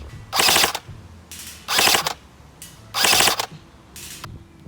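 G&P M16A1 airsoft rifle firing full-auto, three short rapid bursts of mechanical clattering shots with brief pauses between, close and loud outdoors.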